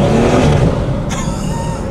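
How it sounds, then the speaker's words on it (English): Exhaust of a Ford Fiesta ST revving nearby, a loud low engine rumble that swells and then eases, with a brief sharper burst partway through. "I get excited when I hear like that type of exhaust"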